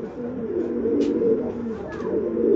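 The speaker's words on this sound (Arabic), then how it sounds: "وادي فرد الحمام اهو" A pigeon held in hand gives low, throaty coos close up, a soft rolling murmur repeating over a couple of seconds with faint higher chirps above it.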